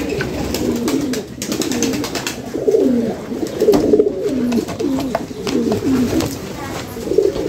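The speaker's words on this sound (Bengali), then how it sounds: "সব কবুতর ঘরে আসবে আস্তে আস্তে।" Pigeons at a home loft at nightfall coo repeatedly in soft, throaty, overlapping phrases, close by over a low background murmur.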